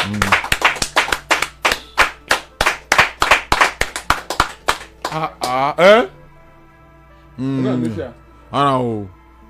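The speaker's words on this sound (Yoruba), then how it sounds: "ẹ bá ń pàtẹ́wọ́ fún wọn" An audience claps in a quick, steady rhythm of about a dozen sharp, close claps, then falls quiet while a voice speaks briefly.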